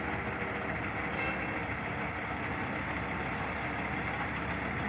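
A shingles delivery truck idling and pulling away, a steady loud diesel engine rumble with a brief hiss near the start, no talking.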